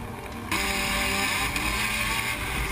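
A race car drives on a track, heard from on board as a loud, steady engine drone that jumps in level early on and holds with small shifts in pitch, with no talking.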